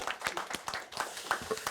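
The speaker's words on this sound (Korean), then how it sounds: "박수 부탁드립니다." An audience at a science policy forum breaks into applause, a quick run of overlapping claps at moderate distance, short and fairly soft.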